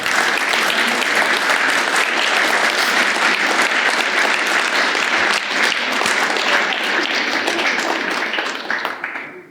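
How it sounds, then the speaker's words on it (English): An audience at a Graham Gouldman talk bursts into sustained applause for Peter Tattersall, a dense, loud wash of clapping that holds steady before tapering off at the end. "I think a round of applause for Peter."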